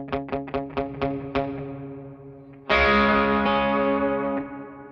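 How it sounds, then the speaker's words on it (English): Plucked electric guitar notes repeat in a quick series, then a loud strummed chord rings out through a Seymour Duncan Dark Sun reverb pedal with a long, washy reverb tail slowly fading. "So let's start with the reverb."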